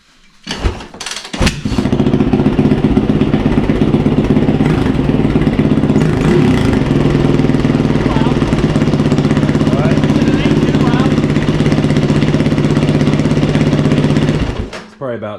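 A 2008 Yamaha WR450F comes to life after a kick-start and settles into a loud, rough, rapid off-road engine clatter that holds steady at close range, then cuts out near the end, with voices talking over it.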